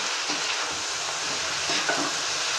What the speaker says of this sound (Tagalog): Ating gigisa na mabuti.